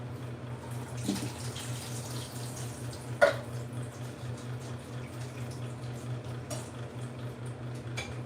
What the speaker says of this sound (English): drained pineapple chunks. Hold on while I drain it.